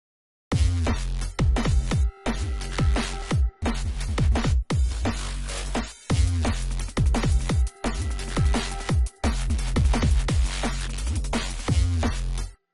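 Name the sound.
drum and bass track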